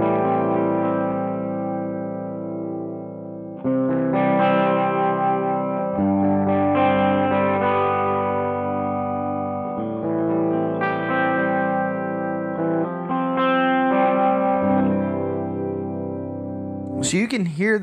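A guitar played through an effects pedal in its slow mode with a touch of distortion, giving sustained chords with a wavering, modulated shimmer and some echo, loud and alone, ending in a sharp noisy burst.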